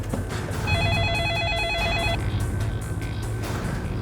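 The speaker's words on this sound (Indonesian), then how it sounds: "Roy langsung telepon Tante Naomi aja ya." A telephone rings as a call is placed, a electronic trilling ring pulsing for over a second and then stopping, heard over a steady low background hum without talk.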